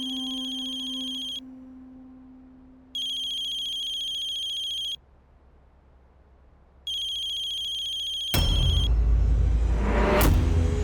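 An electronic phone ringtone trills in three sustained bursts separated by short silences, clear and close, before a sudden loud rumbling noise takes over.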